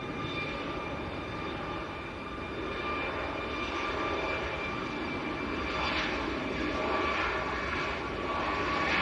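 A Ryanair Boeing 737 Max departs Manchester airport for Malaga, its jet engines producing a strong, steady roar with a rising whine that swells slightly toward the end.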